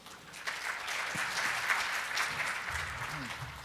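Audience at a fintech conference session gives brief, moderately faint applause, a steady patter of clapping with some crowd murmur around it.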